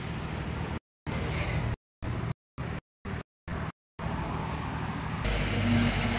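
The engine of a Maruti Omni van running on LPG drones steadily up close, cut by several short gaps of silence, then swells into a louder rumble toward the end.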